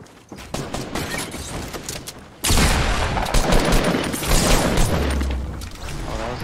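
Dense gunfire from a shooter video game starts suddenly and keeps going for several seconds as a loud, sustained burst of shots. Softer scattered game sounds come before it.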